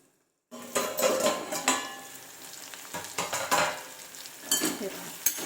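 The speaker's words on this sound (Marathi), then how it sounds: "आपल्याला या बटाट्याला अधूनमधून एकदा दोनदा हलवून घ्यायचं आहे, थोडंसं परतायचं आहे" Diced potatoes for sabudana khichdi stirred and sautéed in a pan, with a spatula scraping and clinking against the metal over a soft sizzle in irregular bursts, close and alone.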